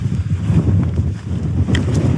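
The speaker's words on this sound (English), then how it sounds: "it's really windy now" Strong wind buffets the microphone in a continuous low rumble, gusting unevenly for a couple of seconds with no talking, outdoors on the Cumbria Way hiking trail.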